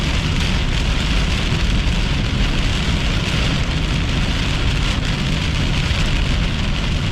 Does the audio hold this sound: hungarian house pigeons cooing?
no